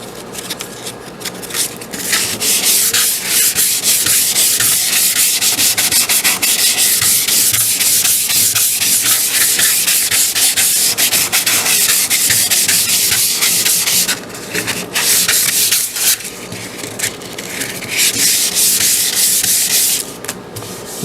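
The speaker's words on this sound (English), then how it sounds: "go over it with your sandpaper. I'm using 220 here." Hand sanding cedar wood with 220 grit sandpaper, a steady close rasping rub in long continuous strokes, with a brief pause midway before the scrubbing resumes.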